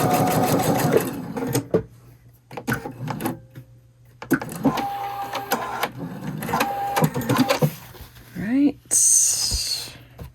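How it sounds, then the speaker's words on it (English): A Pfaff sewing machine stitches pieces of a rail fence quilt block in several bursts of whirring needle stitching, with short pauses between runs and a person talking in between. "Oops, sewing on camera."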